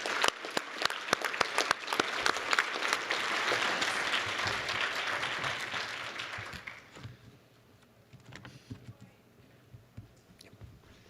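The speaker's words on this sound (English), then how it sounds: "Join me in a round of applause for Andrea." Audience applause at a college arts and sciences appreciation and recognition ceremony, a dense round of clapping that holds for about seven seconds, then thins out into a few scattered claps.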